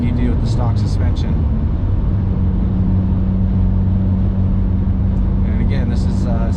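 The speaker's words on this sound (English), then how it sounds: "this is 65 miles per hour highway driving" Steady road and engine drone inside a 2020 Subaru WRX with Fortune Auto 500 coilovers, cruising at 65 mph on a bumpy highway, a constant loud rumble with brief talk at the start and end.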